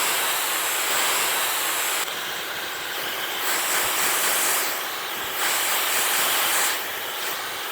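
A hair dryer on the cold setting blows with a steady broad rush of air, close and fairly loud, the airflow shifting slightly as it moves over styled hair, with no talking.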